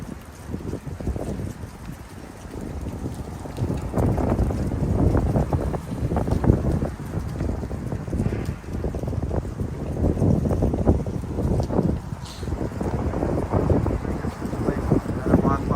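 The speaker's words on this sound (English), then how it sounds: "Must be really windy. Sounds like it's coming through strong." Strong wind buffets the microphone in a steady low rumble throughout on a street in Bracebridge, Ontario, with voices talking faintly underneath.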